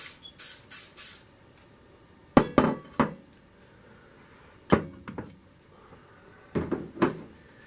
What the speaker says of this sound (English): we're going to take our loaf pan, grease our loaf pan